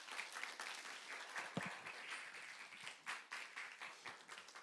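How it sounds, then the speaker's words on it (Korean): A church youth group at a winter retreat claps to thank a pastor for his lecture. The applause is soft and somewhat distant, with a crackle of individual claps that swells and fades slightly. "우리 귀한 강의해 주신 목사님께 여러분이 할 수 있는 최고의 박수로 감사 표하겠습니다"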